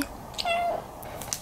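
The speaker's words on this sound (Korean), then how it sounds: "요지 행복하다면 지금 야옹을 해요." A cat gives one clear, close meow that rises and falls in pitch, with quiet room tone around it.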